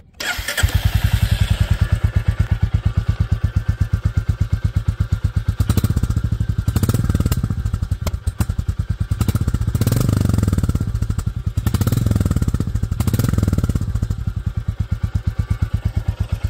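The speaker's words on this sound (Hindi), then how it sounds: "हंटर का एग्जॉस्ट छोटा है लेकिन पटाखे बड़े बड़े मार रहा है" A Royal Enfield Hunter 350 motorcycle engine thumps loudly and steadily at close range through a short exhaust, with irregular revving and crackling pops from the exhaust during the middle stretch.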